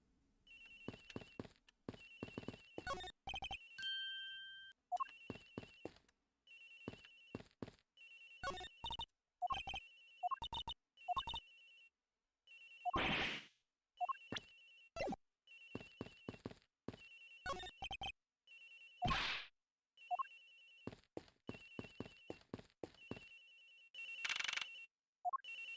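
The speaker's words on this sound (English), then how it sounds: "It's ringing from somewhere, sir." A phone rings repeatedly in the Ace Attorney Investigations video game, a bright electronic ringtone in short rhythmic bursts, interspersed with game blips and text-scroll sounds, no talk.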